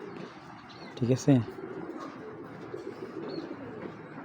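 A pair of short, low pigeon coos rise briefly and close by over a faint background; the bird is a female Milli pigeon with silver eyes, kept as a club racing pigeon, and a person speaks briefly.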